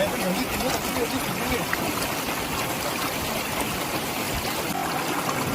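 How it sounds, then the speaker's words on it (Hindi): Water from a waterfall at a quiet beauty spot near the Jayanti Mata temple in Khandwa rushes in a constant, broadband roar, close and steady throughout, with no clear breaks or talk. "ये वाटरफॉल का पानी है और काफ़ी शुद्ध पानी है ये।"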